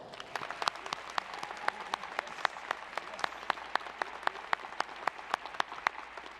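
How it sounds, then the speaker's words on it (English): Audience applause at a university doctoral hooding commencement ceremony, a steady wash of many hands clapping with sharp individual claps standing out, continuous and fairly close throughout. "Please give them a round of applause."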